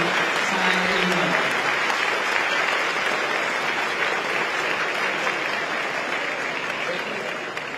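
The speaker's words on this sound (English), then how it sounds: "Ladies and gentlemen, please give a warm round of applause to the President of the Republic of China, Her Excellency Tsai Ing-wen." Sustained applause from a large audience welcoming Taiwan's President Tsai Ing-wen at the AmCham Taiwan 2024 banquet, steady and dense throughout, with a brief voice heard early on.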